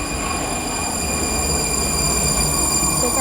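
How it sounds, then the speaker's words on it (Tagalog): Subway train in the Prague underground, a steady loud rumble of rolling wheels with faint high whine and squeal throughout, close by and without talk. "So, I am waiting for another train. So, here it is."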